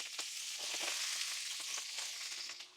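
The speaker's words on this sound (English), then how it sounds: "spray it with olive oil on top and let it sear for 30 seconds on one side" Steady, close-up sizzling of cabbage leaves searing in a hot pan with olive oil, a continuous crackling hiss with small pops throughout.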